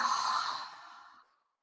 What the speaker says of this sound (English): Exhale fully out through mouth.